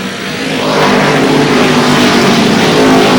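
Stock cars racing two abreast at Lee Speedway in New Hampshire, a loud dense roar of several engines swelling over the first second and then holding steady as the field passes close by, with no voices.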